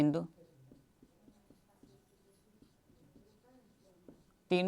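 Chalk or marker writing on a board during a Class 10 coordinate geometry maths lesson, with faint, rhythmic tapping and scratching strokes between brief bursts of a teacher's speech at the start and end.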